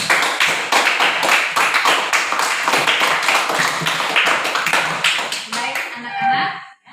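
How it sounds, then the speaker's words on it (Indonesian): Classroom applause for a student group after their presentation: a loud, close burst of many children clapping rapidly and evenly, which stops abruptly near the end as a voice starts speaking. "Tepuk tangan untuk kelompok Pijar."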